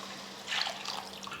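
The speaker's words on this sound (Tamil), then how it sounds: "கூடவே தேவையான அளவுக்கு தண்ணியும் சேர்த்துக்கிறேன்." Tamarind water poured into a simmering fish curry masala makes a brief, soft liquid splash and trickle lasting under a second, close and fairly quiet against a faint background hum.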